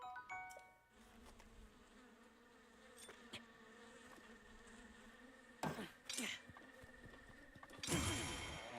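A swarm of bees buzzes steadily around a hive in Breath of the Wild, a continuous close drone with a few sharper game effects and clicks toward the end.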